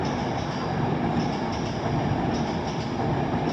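Class 350 and Class 390 trains pass together toward London Euston at Primrose Hill, a loud, steady rolling roar of wheels on rail with faint clicking, close by and with no voices.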